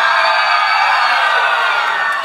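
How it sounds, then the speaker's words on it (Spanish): A crowd at a dance contest in Siuna applauds and cheers for a young male contestant, a loud, dense, continuous wash of clapping and voices with no distinct speech. "¡Aplauso para el chico!"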